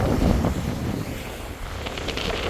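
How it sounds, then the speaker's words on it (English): Strong onshore wind buffets the microphone during Storm Ciaran at a breakwater on the Barry coast in South Wales, a continuous loud roaring rush with no talking. "So the wind's howling"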